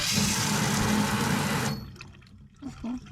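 Hot water gushes loudly from a tap at a campground dishwashing station, then cuts off abruptly, leaving a few faint drips and small clunks in a quiet room.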